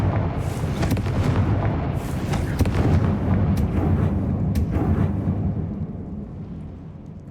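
A Confringo blasting spell from Hogwarts Legacy erupts in a loud, sustained rumbling explosion, a dense roar with sharp crackling bursts that lingers for several seconds before slowly easing off.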